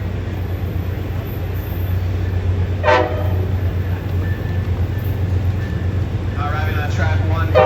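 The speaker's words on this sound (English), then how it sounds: "Then, finally, the Coast Starlight arrived." Amtrak Coast Starlight passenger train arriving at the San Luis Obispo station, a steady low rumble with a brief horn-like tone near the middle and voices near the end.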